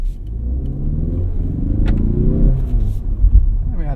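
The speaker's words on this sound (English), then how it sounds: "Try the acceleration test." A Ford Mustang accelerates hard in an acceleration test, heard from inside the car as a loud, rising engine rumble with revving that swells and holds, with brief voices in the cabin.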